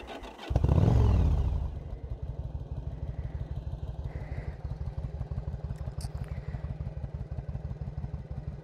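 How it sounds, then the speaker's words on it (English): A Yamaha V-Star 1100 motorcycle with aftermarket exhaust pipes starts up with a brief roaring rev, then settles into a loud, steady, rhythmic lumpy idle pulsing close by. "we'll fire it up so that you can hear those pipes"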